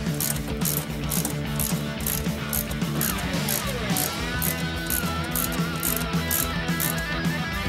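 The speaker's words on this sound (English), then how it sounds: "get my 7/16 wrench out, along with the ratchet" A 7/16 wrench and ratchet tighten a bolt on a Thermodyne Systems wind turbine kit, giving a steady run of rapid close metallic ratchet clicks that continues for several seconds with no talk.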